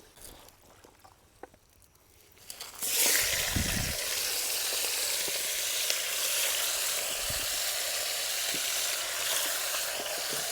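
Chicken tikka pieces of country rooster meat, soaked and coated, hit well-heated oil in a pot after a quiet start, then a loud, steady sizzle of deep frying continues close up with no talk.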